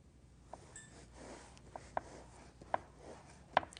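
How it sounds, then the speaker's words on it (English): A serrated knife saws through a cake to level its dome, giving a few faint, short scraping strokes spaced about a second apart over a quiet kitchen background. "I'm going to cut the dome off of this one using a serrated knife"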